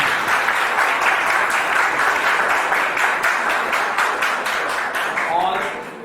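An audience at a charitable trust's foundation day celebration breaks into loud, sustained applause, dense crowd clapping that stays strong throughout and tapers slightly at the close, with some voices mixed in.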